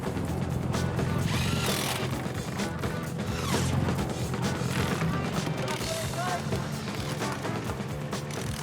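Wheel nuts are tightened quickly on the tire of a 1991 Subaru Legacy Turbo, giving busy clicking and clanking under loud background commotion, with voices talking throughout.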